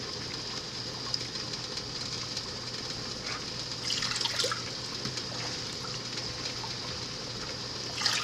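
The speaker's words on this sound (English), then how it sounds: "I'm gonna put 2 cups of white vinegar in." Two cups of white vinegar are poured into a pot holding white sugar, giving a steady, soft liquid trickle that swells briefly midway, close and without talk.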